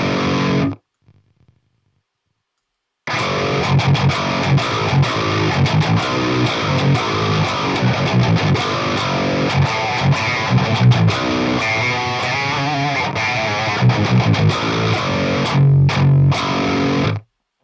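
Distorted metal electric guitar riffing through a Fredman Digital Fredhead amp sim with the warmth knob switched off and then cranked, dense and loud after a near-silent opening, with chugging palm mutes and a brief break near the end.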